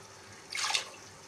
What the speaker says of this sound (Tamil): தண்ணி ஊற்றி நல்லா கரைச்சிக்கலாம்